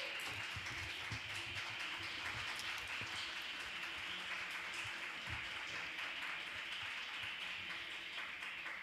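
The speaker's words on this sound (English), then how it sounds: "A big round of applause for her" An audience at a 2018 prize ceremony applauds a prizewinner: a dense, continuous patter of many hands clapping that holds steady for several seconds, heard from within the hall.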